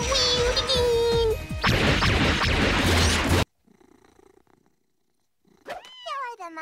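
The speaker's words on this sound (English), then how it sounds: "You're the most cutest kitty in the whole world." A cartoon cat purrs loudly and steadily up close, then cuts to near silence before a voice speaks.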